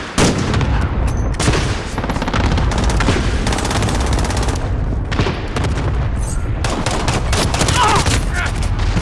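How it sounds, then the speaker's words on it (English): Cluster strike explosions and gunfire from Call of Duty: Modern Warfare sound as dense, continuous bursts of booms and rapid shots, loud and close, with voices talking over the barrage. "Good copy. Cluster strike away."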